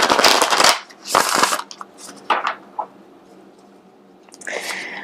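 A Modern Witch tarot deck is shuffled in close, crisp bursts of riffling cards, pausing between passes with softer handling taps and rustles.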